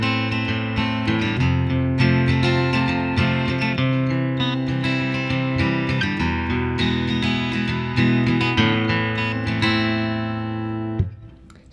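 A chord progression with its minor third chord swapped for a major chord, played continuously and loudly with sustained harmonic tones and a sharp accent near the end, no talking.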